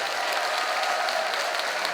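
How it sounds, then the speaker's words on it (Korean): Steady, dense applause from an audience at a speech event for the 2025 Yeongdong World Gugak Expo fills the whole stretch, loud and even with no voices over it. "박수를 많이 해주시기 바랍니다."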